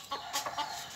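A village chicken gives a few short, close clucks in a quick burst lasting about a second, with no talk over it.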